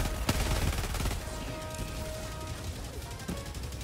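Machine pistol gunfire in the video game Helldivers 2, a few sharp shot bursts early on over a dense background of game battle noise and tonal effects, with voices talking.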